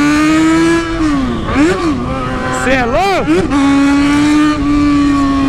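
A motorcycle engine idles with a loud, throaty rumble and revs up and down in several short bursts, close by, while people talk over it.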